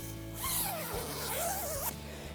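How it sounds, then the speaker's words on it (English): The large D-shaped door zipper on a Marmot Force 1P one-person tent is pulled open in one long, close, rasping zip of about two seconds, with no talking. "starting with this big D-shaped zipper, you've got easy access in and out of the tent"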